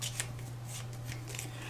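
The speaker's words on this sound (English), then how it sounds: "let's just shuffle this" Board game cards from Bloodborne: The Board Game are shuffled in a few quick riffling bursts over a steady background hum, close and fairly soft.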